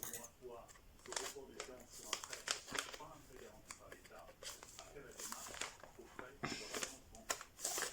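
Plastic packaging crinkling and rustling while a mystery colouring book is unwrapped, close, irregular crackles and tearing sounds throughout, with a person speaking softly over them.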